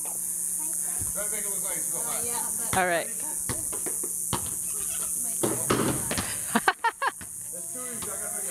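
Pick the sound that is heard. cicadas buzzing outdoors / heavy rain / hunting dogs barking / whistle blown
cicadas buzzing outdoors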